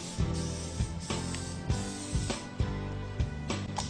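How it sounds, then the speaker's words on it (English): Nonstick butter spray hissing onto a griddle in a series of short, steady bursts with sharp onsets, fairly loud and close, with no voices. "now I'm gonna spray my griddle with a little bit of nonstick butter spray"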